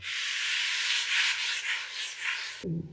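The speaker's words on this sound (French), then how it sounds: "Le travail à la ponceuse." A 150 mm power sander grinds on a ceiling with a bright, hissing whir that swells and dips rhythmically, then cuts off abruptly near the end.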